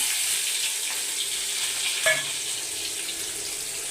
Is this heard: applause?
no